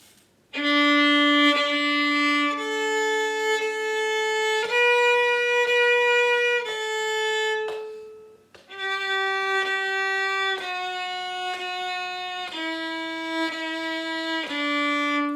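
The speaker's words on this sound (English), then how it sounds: "first violins, all together, we want it to sound like this." Violins play a smooth melody in unison, long sustained bowed notes moving stepwise, with a brief pause midway before the line resumes.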